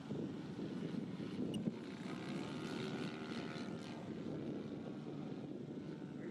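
A model airplane's engine drones steadily in flight at about 4,500 RPM, a continuous faint buzz heard from a distance with some wind noise.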